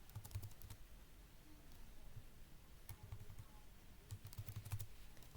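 Computer keyboard typing in bursts of quick keystrokes, faint and close, with pauses between clusters, during spreadsheet work in DWSIM software.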